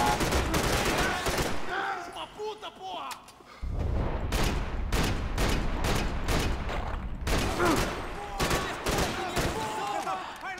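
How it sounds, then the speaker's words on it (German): Rapid bursts of Max Payne 3 gunfire, loud and close, crackle almost continuously with a brief lull before resuming in dense volleys. "Kein Schuss trifft"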